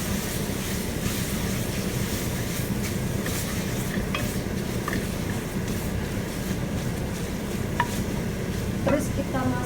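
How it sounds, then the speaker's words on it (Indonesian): Continuous sizzle and scraping as spaghetti bolognese sauce with carrot is stirred in a hot pan, with faint utensil clicks against the metal throughout. "Kita aduk rata."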